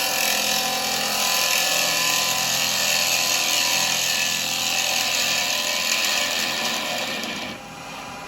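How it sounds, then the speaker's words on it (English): Spindle gouge cutting wood on a lathe while cleaning up the bottom of a turned piece, a steady, close scraping hiss over the motor's hum that holds level for about seven seconds, then drops quieter near the end. "So I'm coming in with a spindle gouge."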